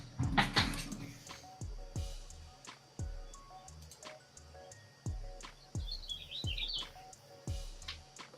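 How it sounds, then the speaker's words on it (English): Birds chirp faintly in the background while regular knocking or tapping sounds repeat about once a second, with a brief burst of noise at the start. "I hear birds."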